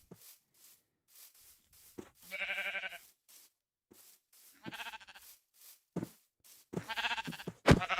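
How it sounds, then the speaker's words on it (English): Sheep in the video game Minecraft bleat three times in short wavering calls, spaced a couple of seconds apart, between soft clicking and tapping sounds. "Oh, more sheep."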